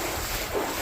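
Storm-driven waves on a river during Tropical Storm Ophelia in eastern North Carolina, a steady rushing wash of water mixed with gusty wind buffeting the microphone, loud and continuous without voices.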